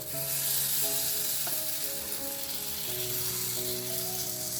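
Semolina paddu batter sizzles steadily in a hot soapstone paddu pan, a continuous close frying hiss with faint light clinks and a brief tap, with no talking.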